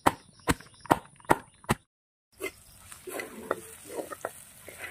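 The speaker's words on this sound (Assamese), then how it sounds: "আলু পিঁয়াজ এনেদৰে ভাজি লৈছোঁ" Potatoes and onions frying in a pan, with a few sharp scraping stirs at first, then after a brief pause a steady soft sizzle broken by occasional spoon knocks, heard close up.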